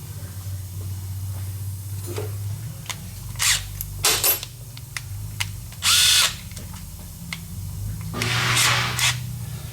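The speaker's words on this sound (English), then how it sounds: "We're going to drill through." A power drill with a 19 mm bit runs steadily with a low whir, punctuated by several sharp bursts of high-pitched grinding as the bit bites through material.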